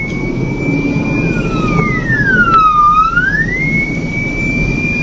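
An ambulance siren wails as it passes through traffic in Malaysia, one long rising and falling tone that dips in pitch as it goes by, loud and steady over a continuous rumble of road noise.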